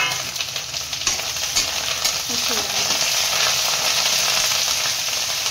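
Garlic, curry leaves and cumin sizzle loudly in hot oil for jeera rice while a spoon stirs them, giving a close, continuous hiss broken by light scraping.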